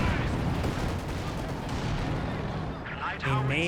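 Calliope rocket artillery firing in a Company of Heroes 2 match, a dense rolling barrage of launches and blasts that stays loud throughout, with a voice cutting in near the end.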